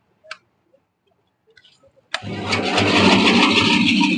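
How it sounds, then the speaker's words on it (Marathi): A few soft clicks in near silence, then a farm machine engine cranks and catches at an agricultural exhibition, settling into a loud, steady rattling roar close by. "आता मशीन तुम्हाला चालू करून जावतो"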